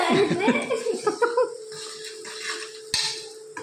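Spoon stirring onion, ginger, garlic, curry leaves, salt and turmeric in a pan, with metallic scrapes and clinks up close. Speech and a short laugh run over it, and a steady tone hums underneath.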